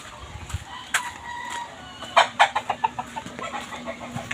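Fighting roosters cluck in a rapid run of sharp calls with a crow mixed in, close by and fairly loud, with no talk over them.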